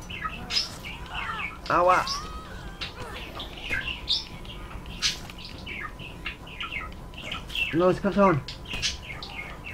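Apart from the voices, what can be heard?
pet bird chirping and squawking in the room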